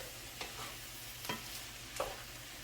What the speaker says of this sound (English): Let's get this all stirred together.